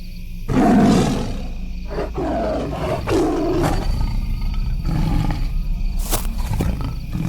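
An animated tiger lets out a loud, close roar that rises sharply and then sustains in deep snarling growls, with a brief bright crack near the end of a dark fantasy story scene.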